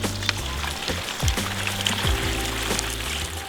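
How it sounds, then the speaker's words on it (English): Water pours into a tree watering bag that drips slowly through small holes at its bottom, a steady splashing and trickling pour close by with a low gurgle underneath. "we putting this water in this bag"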